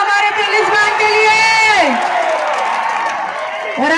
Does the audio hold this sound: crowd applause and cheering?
yes